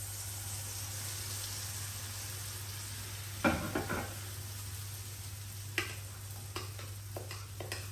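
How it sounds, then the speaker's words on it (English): Gluten-free corn bread batter hitting a hot oiled skillet gives a steady, moderate sizzle with a few sharp scraping and spreading taps partway through. Nobody talks. "into your hot pan, I'm going to just add my"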